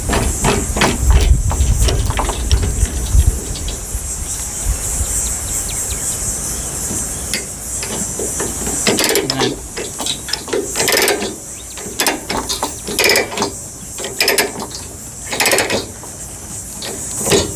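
A ratchet chain binder is cranked to tighten load chains around equipment being secured, in this case a John Deere 50G excavator, giving repeated metallic clicking and ratcheting in uneven bursts, close and fairly loud, with no talking.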